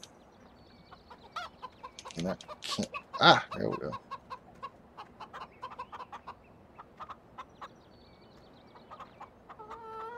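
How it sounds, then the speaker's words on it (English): Chickens cluck in Farming Simulator 17 on Lone Oak Farm, scattered short clucks and a few louder squawking bursts near the middle, with someone briefly talking over them. "Yes, this is our chicken."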